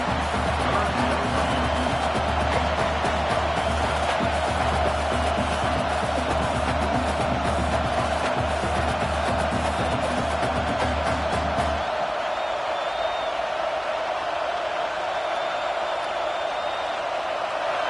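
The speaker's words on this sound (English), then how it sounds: "The crowd elevating its energy, willing this defense to get a stop on this big third down." A football stadium crowd roars before a big third down, a dense, continuous wash of noise that suddenly thins out near the end.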